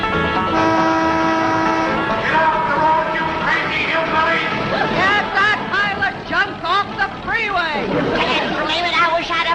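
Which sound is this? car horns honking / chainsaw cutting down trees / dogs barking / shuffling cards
car horns honking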